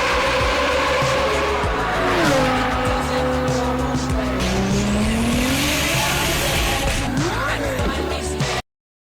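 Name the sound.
Lamborghini sports car engine and tire squeal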